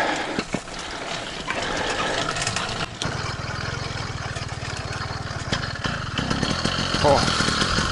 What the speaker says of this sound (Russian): Холодный запуск двигателя. Надо подсос поднять.